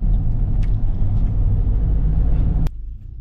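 A motor vehicle rumbles past close by, loud and steady with low engine drone, then cuts off abruptly near the end, leaving only faint background noise.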